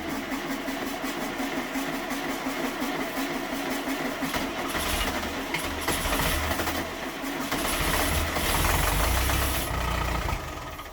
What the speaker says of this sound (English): the tractor started right up. It sounded fantastic at this point to me.